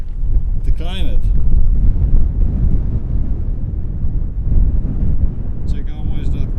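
Strong wind in the Dolomites mountains during a via ferrata climb as a storm approaches, heard as a loud, continuous low buffeting rumble on the microphone, with brief faint voices cutting through.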